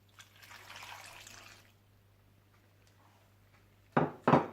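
Milk pours onto potatoes for a potato gratin with a soft, steady trickling splash lasting about a second and a half, followed by a quiet stretch and two sharper knocks at the end.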